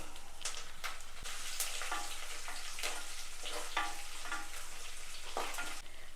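Ginger garlic paste, green chillies and curry leaves fry in hot oil in a pan for a Kerala dried prawn and raw mango curry, giving a steady close sizzle with bursts of crackling and stirring, no talk.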